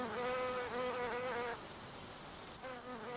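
Bee flies and similar flies buzz around garden flowers with a close, steady, droning whine that rises and wavers, briefly fades out, then returns.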